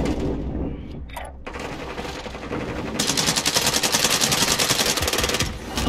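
Rapid automatic gunfire bursts loud and continuous in the Warzone shooter video game, a sustained rattling stream of shots after scattered earlier reports.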